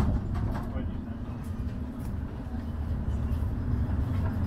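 A tram ride through Topsail Hill RV campground at Santa Rosa Beach, Florida: a steady, close rumble of the rolling vehicle and its wheels fills the whole stretch at an even level.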